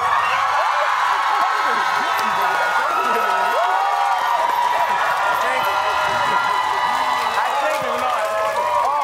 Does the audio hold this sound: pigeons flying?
no